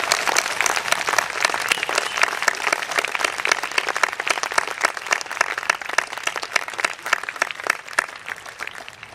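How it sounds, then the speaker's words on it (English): A large audience at a school's opening convocation applauds the maintenance staff: dense, steady clapping that fills the whole stretch evenly, with no voices over it. "Let's give them a round of applause"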